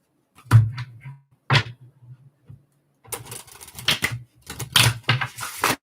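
Tarot cards being shuffled nearby: scattered sharp slaps and taps, then a denser burst of quick papery riffling, with short silent gaps between.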